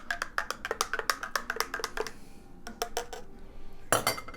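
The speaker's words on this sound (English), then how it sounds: "And then I just stir it up." A spoon clinks rapidly against a drinking glass while stirring a drink, a quick run of bright metallic taps, a short pause, a few more taps, then a louder final clatter, close and with no talk.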